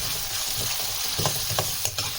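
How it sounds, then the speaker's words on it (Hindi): Two medium onions, sliced, fry lightly in hot oil in a karahi over a medium flame, giving a soft, steady sizzle with a few faint stirring scrapes. "पहले हम थोड़ा सा प्याज को लाइट फ्राई करें"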